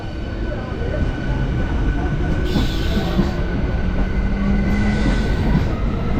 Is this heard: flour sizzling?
no